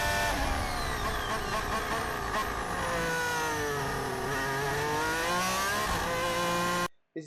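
Formula 1 cars scream past one after another on a corner exit, loud high-pitched engines rising and sweeping in pitch for several seconds before cutting off abruptly.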